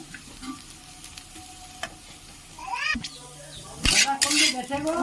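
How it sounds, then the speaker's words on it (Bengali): Carrots sizzle in a pan with scraping stirs, growing louder toward the end as the frying intensifies. "আর একটু ভালো করে ভেজে নেব।"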